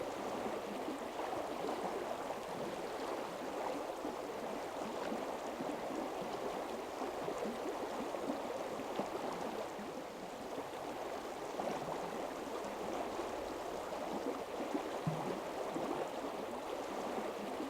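Steady murmur of the Breiðdalsá river flowing over its bed during fly fishing, a continuous soft broadband rush heard alone at low level with no talking.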